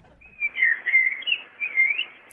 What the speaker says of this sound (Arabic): هاي العصفور قاعد بجاوبني.